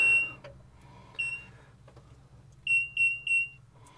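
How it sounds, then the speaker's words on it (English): A new Bobcat S76 skid steer showing swash plate not in neutral fault codes gives high electronic warning beeps at startup: a single beep, another, then a quick run of three close, clear tones over a low idle hum. "We did hear some beeps"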